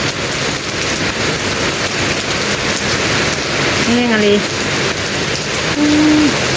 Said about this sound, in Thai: โคตรฝน